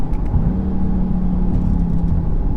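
A 2017 Audi TTS engine drones steadily while driving, a smooth low hum with a faint rise in pitch, heard from inside the cabin with tyre and road rumble beneath and no talk.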